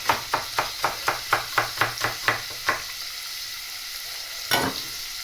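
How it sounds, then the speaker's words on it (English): Vegetables including celery sizzle steadily as they brown in a hot pan while a utensil taps and scrapes against it about ten times in a quick, even rhythm. "what we're looking to do now is brown this veg up a little bit, get it nice and hot"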